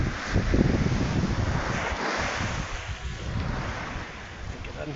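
Ocean waves wash onto a rocky beach at high tide, a steady rolling surf roar with heavy wind buffeting the microphone, fairly loud and continuous.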